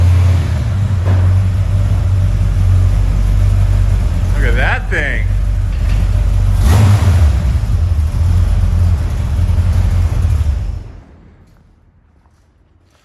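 A loud, nearby truck engine with a carburetor in need of tuning idles with a deep rumble and swells in a couple of revs, while someone speaks over it, then cuts off and leaves near silence.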